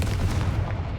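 A Confringo fire spell blast in Hogwarts Legacy, a single heavy booming burst with a rumbling low end that fades over about a second.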